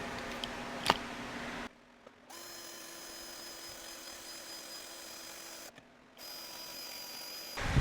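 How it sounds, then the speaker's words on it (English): A power drill bores a new hole through a piece of metal during a rat rod build, its steady motor whine running in two long stretches separated by a brief pause, with a few clicks and knocks around it. "I'm trying to drill a new hole through the piece of metal behind it"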